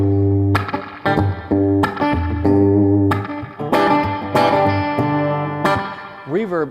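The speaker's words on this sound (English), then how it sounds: "reverb is a ridiculously amount of fun." Electric guitar played through a reverb effect, distorted chords and notes struck one after another with long ringing tails that wash into each other, loud and close, with a brief voice at the end.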